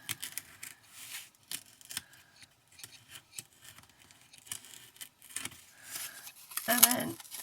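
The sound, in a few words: punching out cut-out pieces from a coffee cup shaker kit sheet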